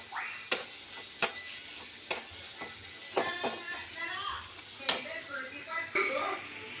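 Spice masala being sautéed for a mustard prawn curry crackles softly, with several sharp utensil clicks against the pan and a voice talking over it.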